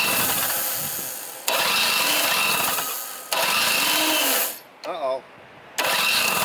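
Craftsman 21-inch snowblower with a 3 hp Tecumseh two-stroke engine cranking on choke and catching, loud close running with a brief dip and restart.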